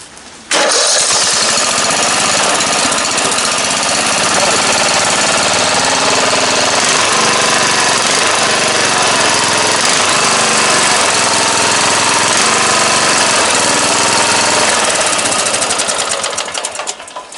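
A tractor engine runs after a carburetor repair, fitted with a HIPA carburetor, kicking in abruptly and holding a loud, steady rattling idle throughout before easing off at the very end.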